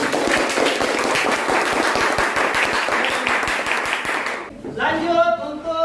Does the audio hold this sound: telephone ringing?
no